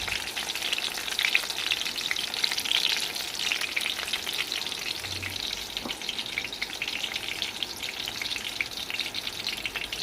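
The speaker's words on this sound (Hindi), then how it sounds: "2 से 3 मिनट तक फ्राई करें।" Brinjal (eggplant) pieces fry in a pan over medium heat, giving a steady, close, dense sizzle that runs unbroken and fairly loud, with a faint stirring scrape partway through and no talking.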